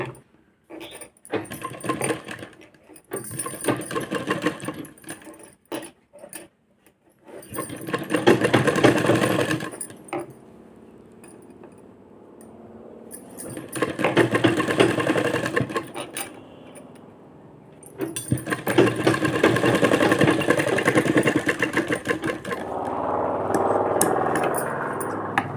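A sewing machine stitches a blouse neckline design in several runs of loud, fast, rattling chatter, with short quiet pauses and small clicks between them.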